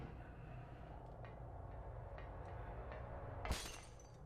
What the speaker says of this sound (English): Nothing but smashing in this room.